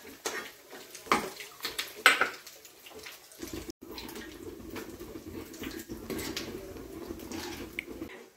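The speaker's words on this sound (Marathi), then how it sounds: "ग्रेव्हीत आपण थोडंसं पाणी टाकत आहोत वरनं." A little water poured into paneer masala gravy in a pan, with intermittent splashing pours and light clinks of utensils against cookware, close by.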